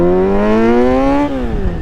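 A Kawasaki Z900 motorcycle running with the exhaust baffle removed, a loud close revving roar that climbs steadily in pitch for about a second, then drops sharply as the throttle closes.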